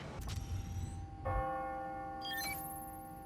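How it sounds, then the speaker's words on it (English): A clock tower bell in the game Spider-Man: Miles Morales strikes on the hour, its clear chime ringing out and sustaining. A higher bright ding joins partway through over a quiet background. "Ringing on the hour. When I hear those bells"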